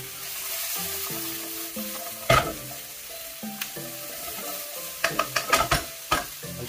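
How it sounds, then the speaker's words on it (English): Garlic sizzles in a hot pan while being stir-fried for Pad Thai, giving a steady close hiss broken by sharp scraping stirs and clatters, with a cluster of quick strokes toward the end. "Now we're going to put in the garlic."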